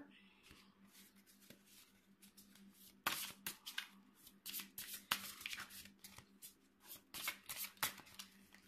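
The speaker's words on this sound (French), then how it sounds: "Donc je remélange." Oracle cards are shuffled by hand in repeated, crisp riffling bursts, soft at first and then louder and quicker, close by, with a voice talking at times.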